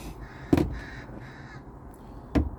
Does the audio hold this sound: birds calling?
yes